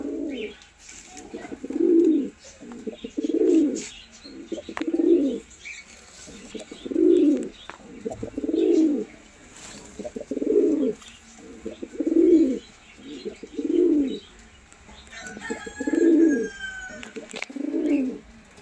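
A Golden Eyes black-spotted cock and Green Eyes hen pigeon pair coo repeatedly up close in a regular rhythm of low rolling phrases, with faint chirps and a brief wing flutter between them.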